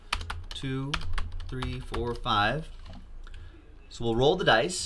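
Typing on a computer keyboard, a quick run of light clicking keystrokes heard under someone speaking, counting aloud.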